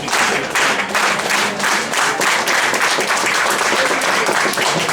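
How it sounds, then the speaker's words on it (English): A large audience claps steadily at a public conversation event with a city mayor, loud, dense and even, with no letup for the whole five seconds. "Ready to clap?"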